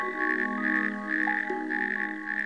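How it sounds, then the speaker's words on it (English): Loud, continuous rattling trills from a chorus of natterjack toads overlap each other, close and pulsing without pause, at a breeding site on a German military training ground. "natterjack toads vociferously court the females. Their calls resound for up to 2 kilometres."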